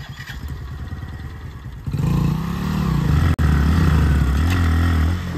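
Hero Splendor and Bajaj Platina 100cc motorcycles racing, close engine drone that rises sharply as the throttle opens, then holds a strong steady revving note.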